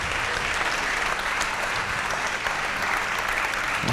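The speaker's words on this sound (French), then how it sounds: "Je vous demande d'applaudir" A live audience applauds steadily and loudly throughout, dense continuous clapping with no break, as a winemaker, an artist and a cook are welcomed at an event in the Bouches-du-Rhône.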